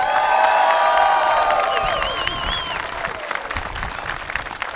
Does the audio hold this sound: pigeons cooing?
no